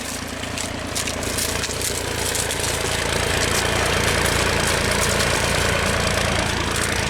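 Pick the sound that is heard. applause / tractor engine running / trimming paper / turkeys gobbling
tractor engine running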